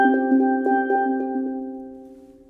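Root and fifth played together on a steel drum in a rapid tremolo roll, bright ringing pitched tones that decay gradually toward the end.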